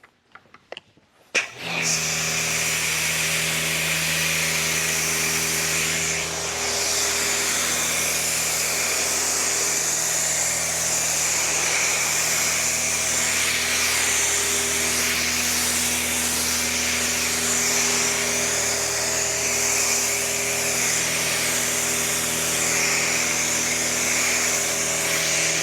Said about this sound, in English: let's get this foamed on here